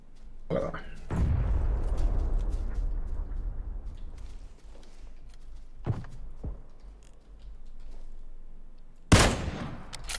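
Rapid bursts of video game gunfire and heavy booms come in clusters, loudest at the start and near the end, with voices faintly underneath.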